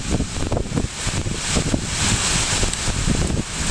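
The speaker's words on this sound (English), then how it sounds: "Got a bit of wind with it." Strong wind gusting during a heavy rainstorm, a steady loud roar with buffeting against the microphone and no voices.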